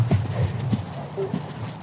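Horses trot under saddle in a riding clinic ring, their hooves making a steady, fairly close clip-clop rhythm with faint background voices.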